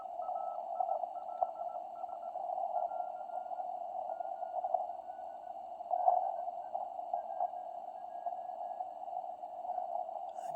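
A faint, steady Morse code CW tone from an RGO-ONE transceiver, a continuous single-pitch signal with slight flutter that holds for about ten seconds with no talk over it.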